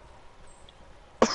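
A single sharp cough near the end, loud and close after a quiet, faintly noisy stretch.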